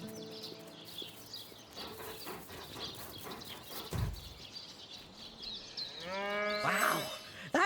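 Cow mooing in the video game Divinity: Original Sin, drawn-out lowing calls with animal noises and clip-clop sounds in a quiet rural game scene, fairly faint and rising toward the end.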